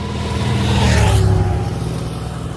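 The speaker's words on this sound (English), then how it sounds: "And then you just drive in there." A car drives steadily along a road toward Las Lisas in the Dominican Republic, its engine a continuous loud hum with a low rumble that swells slightly midway and then settles.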